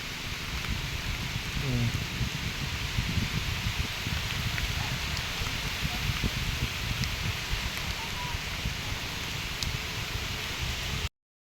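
Rain falls over paddy fields in Konkan during traditional rice transplanting, a steady, even hiss with no pauses, recorded close by.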